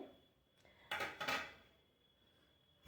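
A cooking pot clanks in a home kitchen, with two or three close metallic knocks bunched together in the middle, alone against quiet background hiss.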